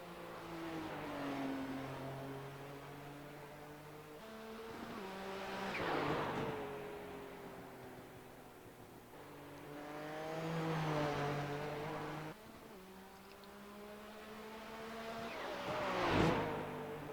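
A Nissan GTP ZX-T race car in iRacing revs through repeated gear climbs, its engine tone rising and dropping in long sweeps with brief shift breaks, steady and close throughout, no voices.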